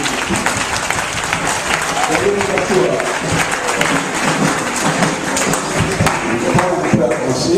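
Congregation in a church service applauding loudly and continuously, dense steady clapping throughout with some voices mixed in under it.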